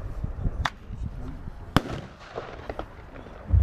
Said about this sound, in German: Das sind die Thunder King Bombenrohre von Jordi, jetzt ganz neu.